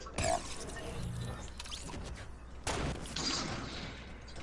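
Sniper rifle shots in a shooter video game: a sharp crack at the start and another heavy report midway, over a continuous murmur of game ambience.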